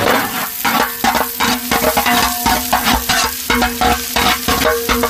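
Finely chopped onion fries in cold-pressed sesame oil, a steady close sizzle broken by repeated scraping and stirring strokes against the pan, with no voices.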